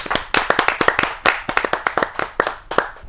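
Audience members at a Hindi poetry gathering clap for poet Deepali Jain, a sparse, close set of individual hand claps in an uneven rhythm with clear gaps, rather than a full ovation.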